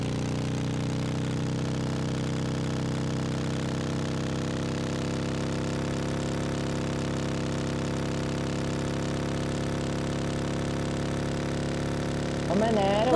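A boat engine runs steadily in the PUBG Livik map, a continuous mid-low drone held at even loudness throughout, with a brief wobbling rise in pitch right at the end.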